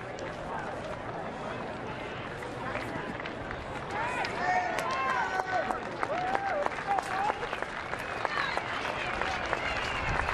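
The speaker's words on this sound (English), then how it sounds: "A lot of fans standing and applauding" A large baseball crowd stands, claps and cheers from a distance, swelling a little midway, while whistles and scattered shouts rise above the broad applause.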